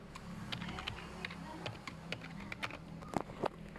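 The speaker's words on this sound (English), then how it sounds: "typing the correct password." Keys on a computer keyboard are tapped in quick, irregular clicks while entering a password, close and quiet, with a few sharper presses near the end.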